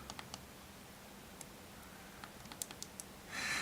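Adjustment buttons on an OBS Cube vape device are clicked several times, making small, quiet, sharp clicks in an uneven series, followed by a brief soft rustle at the end.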